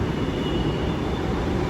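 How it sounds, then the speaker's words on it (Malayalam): A metro train pulls into a station with a loud, continuous rolling rumble and a thin high whine above it, steady throughout and close by. "ട്രെയിൻ ഇതാ വന്നുകൊണ്ടിരിക്കുന്നു."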